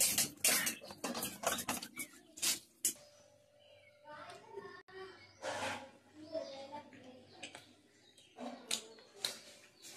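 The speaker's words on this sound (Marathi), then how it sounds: "शेवटी बायकोची भांडी घासून झाली" Dishes being scrubbed and rinsed at home, with intermittent clinks and scraping of pots and utensils alongside nearby talking.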